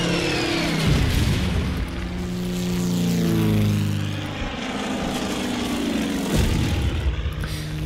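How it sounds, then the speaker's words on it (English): Bomber aircraft carrying out a strike in the Pacific war strategy game Order of Battle: Pacific, heard as a loud propeller drone that sweeps by with a changing pitch and ends in a dull impact rumble. "So our bombing strike here went pretty well."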